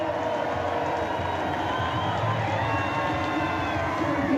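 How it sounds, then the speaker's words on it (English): A lively crowd cheers and shouts for a cliff diver at a Red Bull Cliff Diving World Series event in St. Petersburg, Florida, a steady dense roar of voices with some clapping throughout. "Getting the St. Pete crowd fired up."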